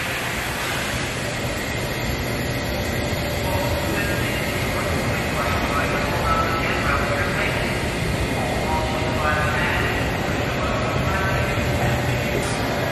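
Steady, dense ambience inside Penn Station, with a continuous rumble of trains and rail machinery, faint announcements and distant crowd murmur blending into an unbroken wash of noise.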